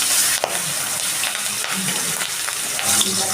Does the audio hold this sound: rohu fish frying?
yes